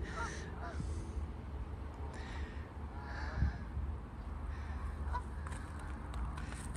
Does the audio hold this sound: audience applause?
no